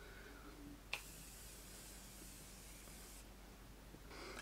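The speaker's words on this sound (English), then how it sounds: "So, all right, so I'm gonna spray it." Makeup setting spray misted from a bottle: a soft hissing burst lasting about two seconds after a small click, then a second brief spritz, quiet and close with no voices.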